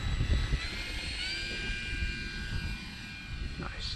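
An E-flite Air Tractor RC model airplane takes off in a park, its electric motor whining steadily and fading into the distance, heard faintly over wind and outdoor background noise.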